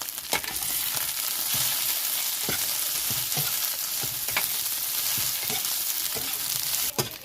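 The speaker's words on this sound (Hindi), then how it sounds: "अभी जो मेथी है ये भी हम फ्राई करेंगे। और इसमें लहसुन का पेस्ट डालेंगे।" Fenugreek leaves fry with garlic paste in a steady, loud sizzle, punctuated by regular scraping stir strokes close by.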